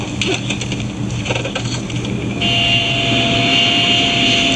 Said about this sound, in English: What kind of a plane is that?